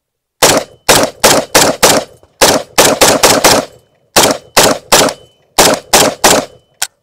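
An AK-pattern pistol chambered in 7.62x39 fires a long string of loud, sharp shots in quick pairs and short strings with brief pauses, close up and ringing, with no talk over it.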